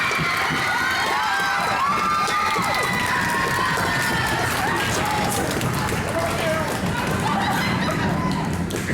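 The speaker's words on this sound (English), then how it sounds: "I'd like to give a warm round of applause to Lexi Rocha" A school concert audience cheers and claps loudly and continuously, with children shouting and excited crowd noise filling the space throughout.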